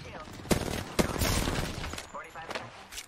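Gunfire in an Apex Legends firefight, sharp shots cracking in quick bursts and a dense fusillade, close and loud, with voices talking over it.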